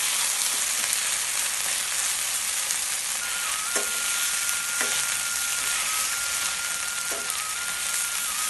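Karan kok greens tempering in a pan, a continuous dense sizzle of frying with a few faint clinks of stirring and a thin high tone running underneath, steady and close with no talking.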